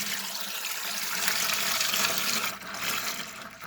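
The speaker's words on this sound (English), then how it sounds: "Then we're going to add our juice. Slowly, because it will splatter." Grape juice, Malbec, poured into a brew bucket, a steady broadband splashing and splattering of liquid that swells in the middle, close and continuous with no talk.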